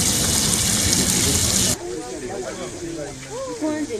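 Water gushing from a pipe punctured by gunfire, a loud broadband hissing rush lasting under two seconds before it cuts to a quieter scene where a voice speaks.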